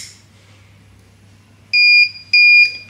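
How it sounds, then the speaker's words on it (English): Sharp high-pitched electronic beeps from a fire alarm buzzer on an ESP32 battery management system, triggered by flame, two long loud tones after a quiet hum, close by. "Let's check the alarm system by introducing fire to this one."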